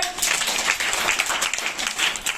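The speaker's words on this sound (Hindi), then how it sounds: "ताली बजाइए।" A group of schoolchildren playing a classroom game clap together in a burst of brisk, uneven applause that holds steady for a couple of seconds, close and fairly loud, with no speech over it.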